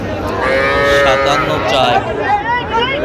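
Several young bull and heifer calves moo close by at a cattle market in Dhaka, overlapping drawn-out bellows, amid the murmur of a crowd chatting in the background.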